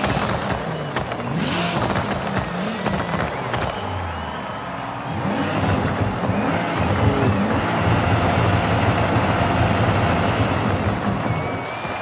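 A Nissan GT-R R35 tuned to 1000 HP in Forza Horizon 5 drones steadily and loudly, its engine note rising and holding as the car accelerates, with a brief lull partway through.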